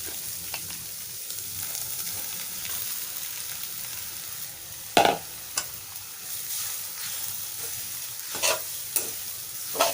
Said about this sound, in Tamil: பொரி சேர்த்துட்டு நல்லா இப்படி நல்லா கிளறி விடணும்